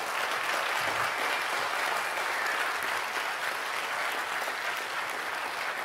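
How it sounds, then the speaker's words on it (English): Audience applause after a conference talk at a hacker camp, a sustained even burst of many hands clapping, fairly close and unbroken for several seconds. "I just want to give a nice round of applause for these two wonderful stand-ups"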